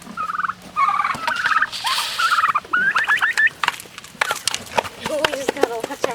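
Blue Slate and Royal Palm turkeys gobble repeatedly in rapid warbling bursts, several birds close by, with scuffling and rustling between calls.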